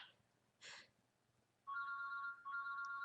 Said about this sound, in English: It's my phone going, I don't know if you can hear it.